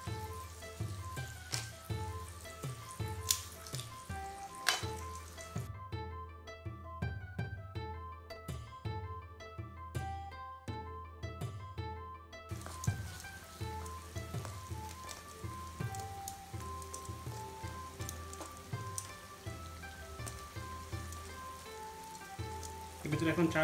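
Shrimp simmer in a covered pot over low heat for a Bangladeshi shrimp polao, giving off a soft, steady crackling sizzle that sits under background music for the whole stretch.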